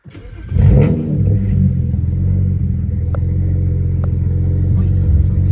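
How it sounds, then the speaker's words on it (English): A BMW 335i with the N54 engine and aftermarket downpipes cranks and fires up, then settles into a loud, deep rumbling idle with a few short revs, close to the microphone. "Let me start the car for you guys."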